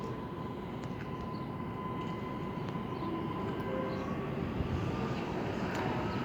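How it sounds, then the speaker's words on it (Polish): An Impuls electric multiple unit pulls away from Warszawa Wschodnia station, a steady rumbling drone with a faint electric whine rising slightly, heard from the platform without speech. "A tu rusza impuls."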